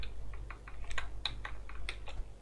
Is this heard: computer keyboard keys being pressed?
yes